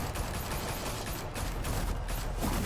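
Dense, sustained gunfire from the Batman Telltale video game fills the whole stretch with loud broadband bursts that blur into a continuous barrage.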